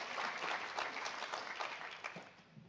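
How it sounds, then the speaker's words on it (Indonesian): A church congregation at an Indonesian-language anniversary service claps together in steady, dense applause that stays fairly even throughout, heard at a moderate distance in a large room. "Berikan tepuk tangan buat Tuhan."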